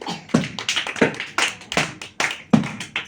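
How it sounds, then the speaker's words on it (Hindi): Children clap hands at a school activity session, irregular bursts of claps at close range with no talk over them. "ताली बजाओ सब।"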